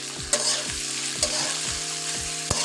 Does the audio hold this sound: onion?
yes